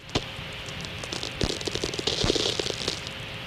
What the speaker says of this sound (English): so you can hear that those crackling sounds. Those are those impulsive spherics that I'm talking about.